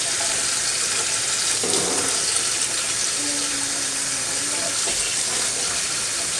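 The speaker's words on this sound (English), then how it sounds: "as soon as I run this over the water, the tomato skin just peels right off." Running tap water pours steadily over a frozen tomato in a sink, a continuous loud hiss and splash with faint shifts as the tomato moves under the stream.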